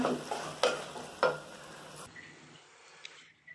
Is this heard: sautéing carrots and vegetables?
yes